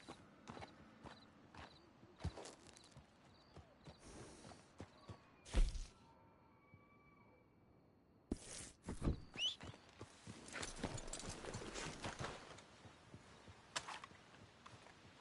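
Scattered horse hoof clops and footstep-like thuds in Red Dead Redemption 2, with a sharp knock midway and denser clattering movement in the second half.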